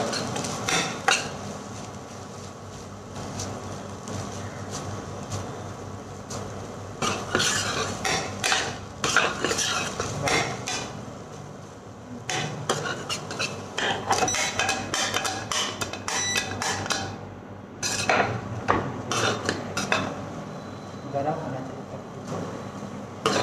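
Noodles are tossed in a pan with loud, rapid metallic clanks and scraping in irregular bursts, close by, while someone talks over the cooking.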